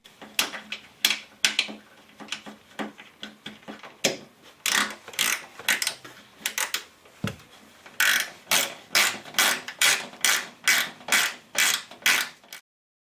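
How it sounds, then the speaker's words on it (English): A hand ratchet tightens a 10mm bolt in the door jamb of a 2004 Infiniti G35X during a front driver's door hinge replacement. The close, dry clicking comes in quick, repeated bursts of strokes with no talk over it. "Then I installed the 10mm bolt in the door jamb."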